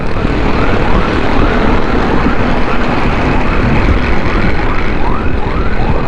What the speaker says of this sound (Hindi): पीछे से एम्बुलेंस आ रही है और उसको जो है ना हमने रास्ता देना है।